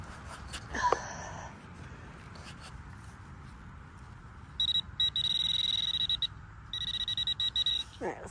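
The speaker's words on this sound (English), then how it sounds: "I got a beep there a second ago." A Nokta metal detector gives steady electronic beeping on a target outdoors, sounding in a longer run of tones and then a broken, pulsing stretch over a low background rumble, with a brief sharp knock beforehand.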